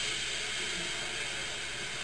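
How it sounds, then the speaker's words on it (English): Animated steam locomotive feebly letting off steam, a faint, steady broadband hiss held evenly for about two seconds with no talk. "He just let off steam feebly."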